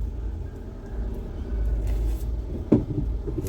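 A manual car pulls away as the clutch is eased out slowly, a low engine rumble swelling steadily, with a brief thump near the end.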